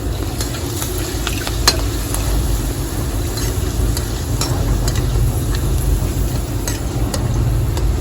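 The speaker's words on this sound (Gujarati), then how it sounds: "તો આપણે એટલી જો તળવાની છે તો એટલી તળી નાખી." Dried bitter gourd slices (karela kachri) fry in hot oil with a dense, steady sizzle, punctuated by occasional sharp pops and scrapes close by.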